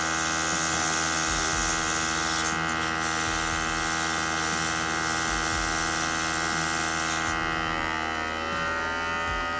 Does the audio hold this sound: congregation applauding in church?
no